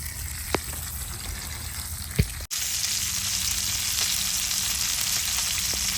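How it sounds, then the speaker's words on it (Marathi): Bangda (mackerel) fish frying on a tava, a close, steady sizzle that starts after a couple of clicks and a brief gap, then carries on unbroken. "बांगडा तवा फ्राय"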